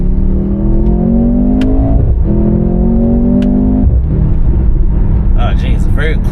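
A Mercedes-AMG C43 accelerates hard in second gear, its engine note climbing steadily in pitch, dropping at a quick shift, then climbing again; heard loud from inside the cabin with a voice speaking near the end.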